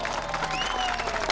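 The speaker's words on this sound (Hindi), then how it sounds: "ताली बजा रहे लोग।" Brief burst of applause from a crowd at a rural political gathering, steady clapping heard at moderate distance over a noisy background.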